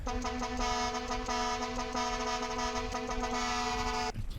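A car horn in GTA San Andreas blares in one long continuous honk for about four seconds, loud and steady, then cuts off abruptly.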